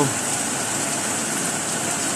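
Night rain in Penang, Malaysia during a thunderstorm, a loud dense steady wash of downpour hiss filling the scene, with no voices over it.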